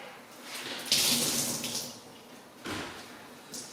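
Water splashes and trickles as hand-washed laundry is wrung out, two bursts of dripping and streaming into a basin, moderately close, with no talking.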